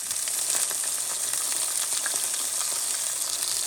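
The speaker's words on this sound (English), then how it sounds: "Fry her up and flip her over." Steak sizzles in a pan with a steady, bright hiss and faint crackles, close and continuous, with no talking over it.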